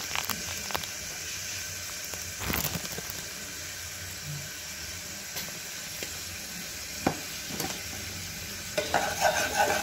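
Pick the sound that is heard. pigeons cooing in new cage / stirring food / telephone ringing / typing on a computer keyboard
stirring food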